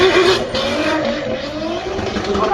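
A 3-litre drift car with a 16-year-old at the wheel slides around the Nurburgring, tyres squealing in a steady wail over a continuous engine roar, loud and close throughout with no talking.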